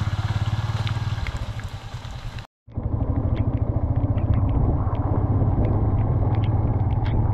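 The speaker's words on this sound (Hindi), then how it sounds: "अपनी बाइक अपना संभाल के लेके जा रहे हैं" A motorcycle ridden carefully along a slippery stretch near a historic palace, its engine a loud, steady close rumble that drops out for a moment and then resumes, with no voices.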